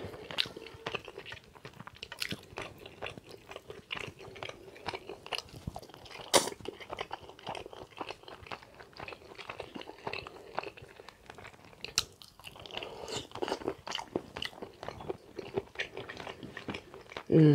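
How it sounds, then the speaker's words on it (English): Close, wet chewing and crunching on gristle from barbecue-sauced pork neckbones baked with liquid smoke, with steady bites and smacking throughout and a few brief murmurs. "I'm chewing gristle, y'all."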